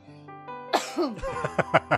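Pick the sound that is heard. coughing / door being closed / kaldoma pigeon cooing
coughing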